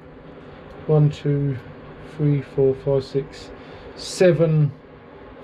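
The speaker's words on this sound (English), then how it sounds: "excuse the background noise, the blower's on" A blower hums steadily in the background during foam and cleat repair work on an E55 catamaran, a constant low drone under a man's short spoken phrases.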